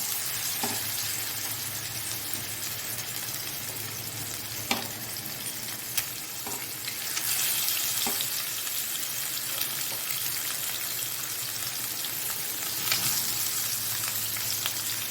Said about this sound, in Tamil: இப்போது எண்ணெய் நல்லா ஹீட் ஆகிட்டு நம்ம மீனை போட்டுடலாம்